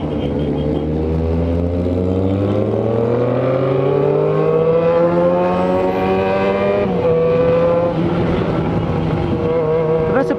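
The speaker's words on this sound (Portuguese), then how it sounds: "É muita moto junta, tem que ir de boa." Several engines drone together, pitches rising and shifting as a large group of motorcycles, including a Yamaha XJ6, rolls past close by, loud and continuous with no talking.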